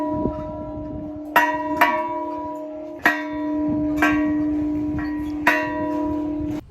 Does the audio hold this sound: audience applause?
no